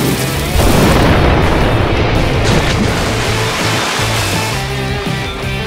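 Cartoon rocket-style fire boost from a racing vehicle in a kids' animated race on ice: a loud, sustained roaring whoosh with booming blast texture and a musical score underneath, no talk.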